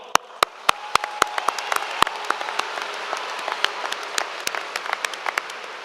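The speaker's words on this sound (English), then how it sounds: "let's give them a round of applause as well" Audience at a high school graduation ceremony applauds, with a few loud, sharp close claps over a wash of scattered clapping from the crowd.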